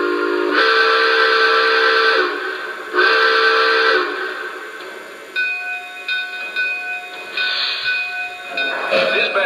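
A Lionel toy train whistle sounds in long sustained blasts, two strong bursts followed by a steadier tone as the model train starts moving, loud and close with no talk over it.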